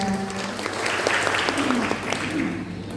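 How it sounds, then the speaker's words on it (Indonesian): Audience applause at an education talk show, a brief burst of clapping over a murmuring room with some voices mixed in. "Oke, tepuk tangan dulu semuanya."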